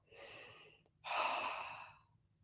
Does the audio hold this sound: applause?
no